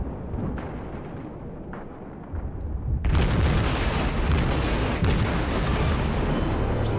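Heavy naval gunfire in World of Warships with the Zao battling the Yamato: scattered distant booms early on, then a loud, sustained salvo roar from about three seconds with repeated sharp blasts, no speech.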